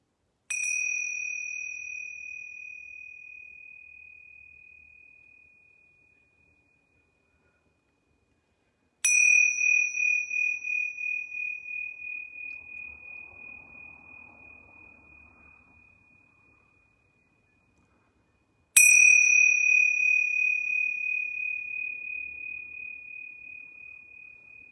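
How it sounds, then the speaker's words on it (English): A set of bells, struck three times at a slow, even pace during the closing rest of a yoga class, each clear ringing tone sustaining and slowly fading before the next strike, with no voices. "I'm going to ring these bells 3 times"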